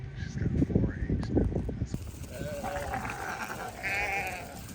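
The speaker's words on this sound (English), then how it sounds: "This is what happy sheep look like." Sheep bleat in a spring pasture, a few calls rising over scuffling and movement, with a person speaking in between.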